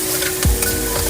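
Onion frying in oil in a pan while being stirred, a brief close sizzle with one dull knock from the utensil against the pan.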